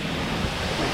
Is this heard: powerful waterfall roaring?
yes